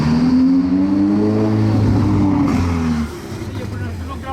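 Loud engine of a Ferrari 488 on a Monaco street, a sustained rising-and-falling rev with strong low harmonics that eases off near the end, with a voice speaking over part of it.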